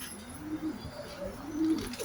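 Young pigeons coo softly in a breeder's loft, two low, rolling coos rising and falling close by against a faint, steady background hiss, with no talking.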